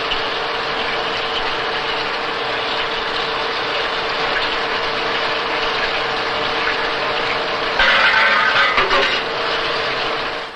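A Colchester lathe turns a high tensile steel gear blank with a loud, continuous machining whir that swells briefly near the end, then fades. No speech.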